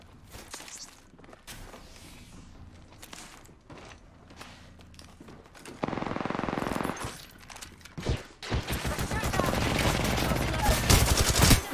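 Rapid automatic gunfire from a gun in the video game Apex Legends, starting as sparse, quieter shots and swelling into loud, sustained close-range bursts toward the end, with footstep-like thuds and a glassy shatter mixed in.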